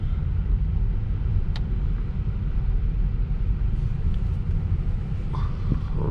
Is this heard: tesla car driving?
yes